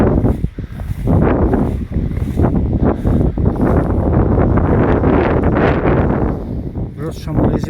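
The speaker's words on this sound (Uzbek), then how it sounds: "Biroz shamol ezyapti." Strong wind outdoors on a rural plot buffets the microphone in a loud, continuous roar that surges and dips slightly, with no calm moments.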